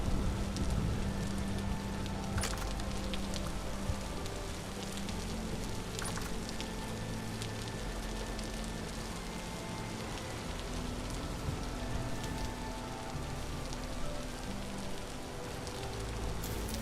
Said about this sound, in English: Oh, right, it's raining.